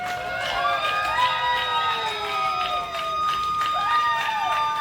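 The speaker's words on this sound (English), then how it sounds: "Mixed response here by the Rampage crowd" An arena wrestling crowd reacts to a wrestler's entrance with a loud, sustained wash of cheers and shouts mixed with whistles and scattered boos, heard from within the audience.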